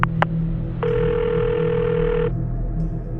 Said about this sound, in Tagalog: habang kumakain kami ng hapunan, tumunog ang cellphone ng nanay ko.